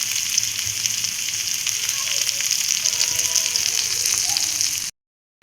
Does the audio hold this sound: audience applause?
no